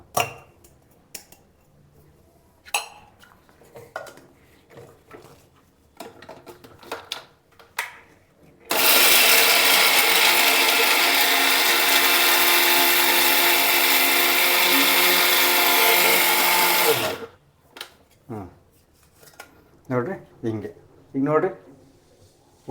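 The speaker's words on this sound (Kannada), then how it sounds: "ಮಿಕ್ಸಿ ಜಾರ್ಗೆ ಹಾಕ್ಕೊಳ್ರಿ ನುಣ್ಣು ಪುಡಿ ಮಾಡ್ಕೋಬೇಕಿದನ್ನು" Mixer grinder running for about eight seconds, grinding a ragi laddu mixture into fine powder: a loud, steady whirring roar that starts and stops abruptly, with a voice talking before and after it.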